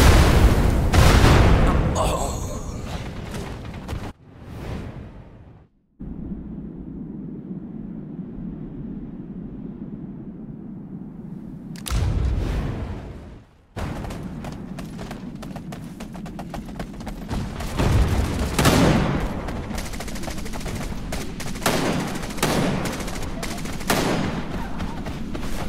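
Gunfire in the shooter Wild Assault, heavy bursts and booming shots at the start, then a quieter stretch before dense rapid fire and impacts resume loudly for the remainder, close and intense.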